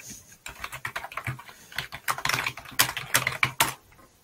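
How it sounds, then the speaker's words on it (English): Rapid typing on a computer keyboard, with close, crisp key clicks in quick irregular bursts and brief pauses, heard alone without talk. "Sometimes typing is quicker."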